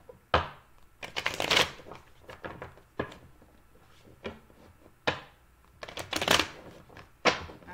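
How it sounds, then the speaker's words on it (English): Tarot cards are shuffled by hand in a quiet room, a series of crisp riffling and slapping bursts with short pauses between them, close and fairly soft. "That was a sucky shuffle."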